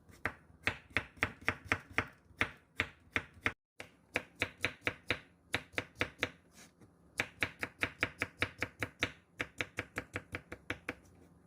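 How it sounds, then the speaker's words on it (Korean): A knife chops half an onion and some zucchini into strips on a cutting board, a fast steady run of crisp close knocks with one brief pause partway through. "손질한 양파 반 개를 채 썰어 놓습니다. 호박 조금 더채 썰어 놓아주세요."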